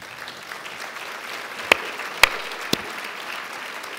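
An audience at a debate on cross-border immigration, trade and security keeps up soft, diffuse applause while three sharp, close claps stand out clearly partway through.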